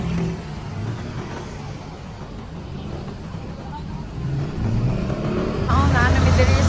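Cars pass by on a busy highway in Cebu, a broad, continuous rush of traffic that swells louder toward the end, with voices talking underneath.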